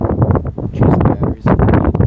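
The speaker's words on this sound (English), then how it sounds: "It's pretty windy." Strong gusts buffet the microphone in low, rumbling bursts on a late-December bow hunt, rising and falling in quick waves close to the recorder.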